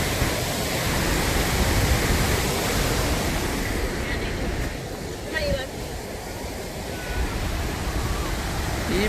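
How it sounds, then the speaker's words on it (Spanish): A large waterfall cascading over rocks, a loud, steady broadband roar of falling water filling the whole scene nearby, easing slightly midway before building again. "A mí me gusta cómo se mira toda esta cascada."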